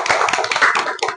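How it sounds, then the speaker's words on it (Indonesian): A class of students applauds in a classroom, a brief burst of close, dense, bright hand clapping lasting about a second. "Beri tepuk tangan dulu untuk Fani."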